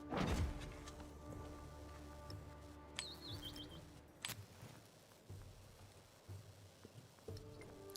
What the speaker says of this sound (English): You hear a little bird chirping.